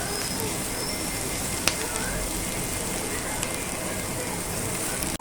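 Onions and curry leaves sauté in a pan for pepper chicken, making a loud, constant sizzling crackle with a few faint clicks and no break.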